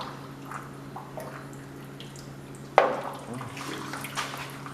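A swamp cooler pump running water: a faint steady trickle and splash with a low mechanical hum underneath, a sharper splash partway through, and occasional soft voices.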